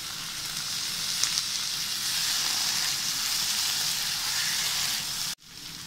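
Boiled butter beans and potatoes going into a hot frying pan, giving a steady close sizzle and frying crackle that runs throughout, with a brief clatter and a sharp cut near the end.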